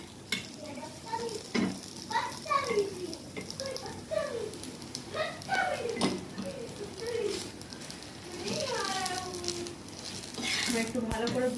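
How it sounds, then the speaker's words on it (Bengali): A potato-stuffed roti frying in oil in a pan, with a continuous close sizzle and occasional stirring or turning scrapes, partly under someone talking throughout. "একটু ভালো করে ভেজে নিতে হবে, এরকম লাল লাল করে ভেজে নিতে হবে রুটিটা"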